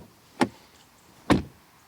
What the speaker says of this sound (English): This is the car key, slim and light in the typical Porsche style, nice, and then door closing sound.